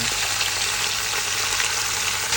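Pork ribs and onions frying in a pan for a Filipino mechado, a steady, loud, close sizzle that continues unbroken with no talking.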